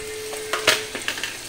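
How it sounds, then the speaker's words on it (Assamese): Garlic-ginger paste dropped onto onions frying in a pan for aloo chop, crackling in a close, steady sizzle with a few sharper spatters and stirring scrapes, no voices. "নহৰু আদা পেষ্ট মই ইয়াত দি দিম নহৰু আদা পেষ্ট মই ইয়াত দি দিছো এতিয়া"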